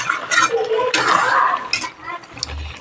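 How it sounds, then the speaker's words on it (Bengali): Chicken pieces stirred in oil in a pot, a utensil scraping and clinking against the metal in short irregular bursts, close and fairly loud, with no talking. "এটাকে আমি ভালো করে নাড়িয়ে চাড়িয়ে নেব তেলের সঙ্গে।"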